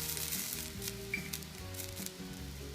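White dry vermouth and lemon juice hit a hot pan and set off a soft, continuous sizzle that stays even and faint for the whole moment, with a low background hum and no speech.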